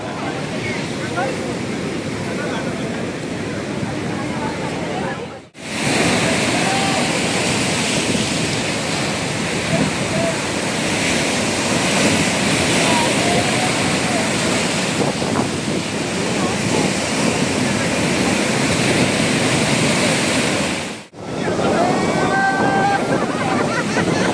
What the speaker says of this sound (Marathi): सगळे भिजले बघा मित्रांनो केवढ्या मोठ्या लाटा उतरल्या